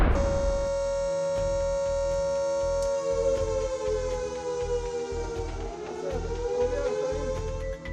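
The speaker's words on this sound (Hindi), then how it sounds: "आज चंडीगढ़ में एडमिनिस्ट्रेशन ने एयर रेड सायरन चलाए" An air raid siren wails in Chandigarh with a loud, steady tone that sweeps slowly and carries through the whole span, with no voices.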